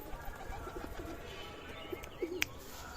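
A baby pigeon gives a few soft, brief coos close by in a quiet room, scattered short calls with a sharper chirp near the end.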